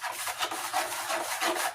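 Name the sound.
6-inch knife mixing drywall mud in a pan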